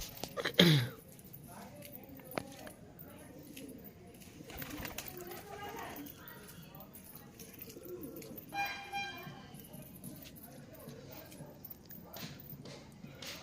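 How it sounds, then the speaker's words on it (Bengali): Pigeons, including a young bird, feed on scattered grain at dusk, giving soft faint coos and light fluttering against quiet background noise, with a voice calling briefly. "পায়রাগুলো নেমে খাচ্ছে এখন"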